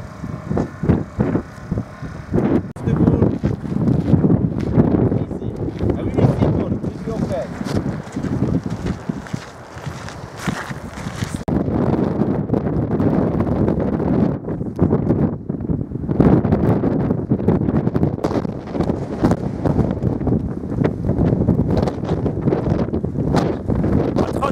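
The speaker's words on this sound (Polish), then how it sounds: "Dobrze słychać, strasznie wieje." Strong Atlantic wind at the Slieve League sea cliffs in Ireland buffets the microphone in loud, continuous gusts and roaring rumble, with someone speaking Polish faintly underneath.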